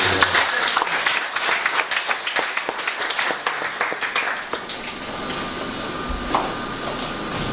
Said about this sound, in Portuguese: Dá uma salva de palmas, Senhor.